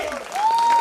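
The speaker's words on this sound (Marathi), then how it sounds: "जोरदार टाळ्या होऊन जाऊ दे" Audience applause at a family triennial Bhavani Mata gondhal devotional gathering: steady, dense clapping throughout, rising slightly, with a thin sustained tone running over it.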